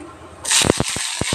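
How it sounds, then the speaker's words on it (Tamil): Mustard seeds dropped into hot oil in a kadai set off a sudden sizzling hiss followed by a handful of sharp, close crackles and pops, alone without talk. "கடாய் காஞ்சிச்சு, இப்போ நான் கடுகு சேர்த்திக்கிறேன்."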